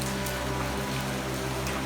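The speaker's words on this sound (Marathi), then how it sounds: "रिमझिम पाऊस पडतोय मी आता पावसात आलो आहे" Light drizzle patters in a Konkan village yard, a soft, even hiss of rain over a low steady hum, lasting only a moment, with no talk.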